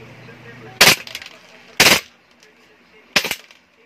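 Three sharp, loud bursts of rapid full-auto fire from a second-hand WE Glock 35 gas blowback airsoft pistol, each burst short and cracking, with brief pauses between.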